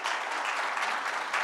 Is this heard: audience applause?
yes